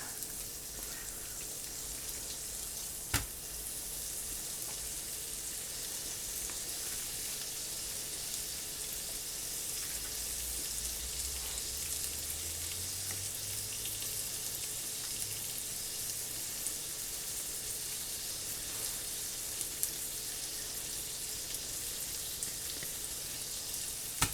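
Salisbury steak patties of ground meat fry in a skillet with a steady, even sizzle and faint crackle that holds throughout, with no one talking.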